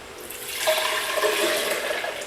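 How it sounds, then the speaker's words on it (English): Coconut water from about six coconuts pours into a blender as the first smoothie ingredient, giving a steady, close liquid gush and splash that swells after a moment and carries on without talk. "this is the coconut water from about 6 coconuts. So I'm going to add that first."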